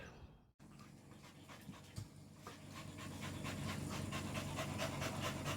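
A wet dog pants in rapid, rhythmic breaths that grow louder and closer after a brief silence, with faint shuffling early on and no talking.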